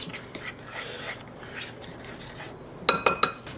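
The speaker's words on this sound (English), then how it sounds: "I want a tablespoon of baking powder. Okay, mix that together." Baking powder stirred into dry ingredients in a bowl, with soft scraping of a utensil followed by a few sharp, close clinks of metal against the dish near the end.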